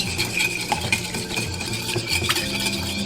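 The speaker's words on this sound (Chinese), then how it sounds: "搅拌均匀，" Egg yolks are whisked with milk in a bowl for a cake batter, a busy close-up clatter and scrape of a utensil circling steadily without pause.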